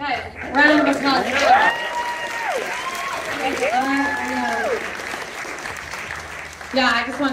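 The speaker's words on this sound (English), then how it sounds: "Okay, round of applause." Audience applause at a Sunday Q&A after a screening of Shadow Brother Sunday, a steady wash of clapping running the whole time beneath people talking over it.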